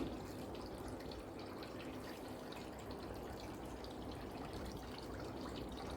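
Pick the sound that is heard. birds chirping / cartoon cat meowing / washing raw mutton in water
washing raw mutton in water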